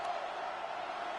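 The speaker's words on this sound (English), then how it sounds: "This crowd into it now as we get to third down." Stadium crowd noise in a college football video game swells as a steady, dense roar of cheering spectators before a third down, continuous and moderately loud throughout.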